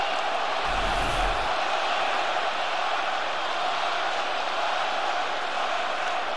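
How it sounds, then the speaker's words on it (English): A packed arena crowd at a Rockets vs Lakers basketball game chants a player's name during a stoppage after a fight, a steady, dense roar of many voices filling the hall with no clear breaks. "Crowd is chanting Rondo's name"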